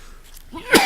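A single sneeze bursts out near the end of a short, quiet stretch in a school board meeting room, fairly close and loud.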